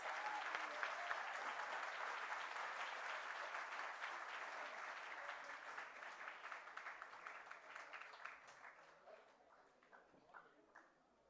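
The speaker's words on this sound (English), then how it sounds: "Let's have a loud round of applause for all these students." Applause from an audience for students at an inaugural conference session, sustained clapping that gradually thins out into scattered individual claps toward the end.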